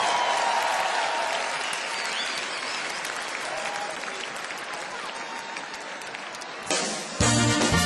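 Dense, sustained audience applause for a singer at a kaseko music tribute, loud and continuous, with crowd noise mixed in before music cuts in at the very end.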